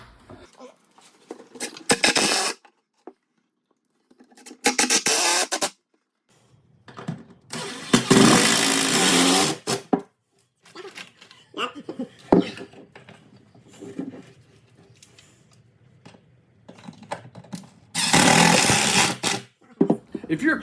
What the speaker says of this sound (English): We're putting 1 screw in each of the nailers.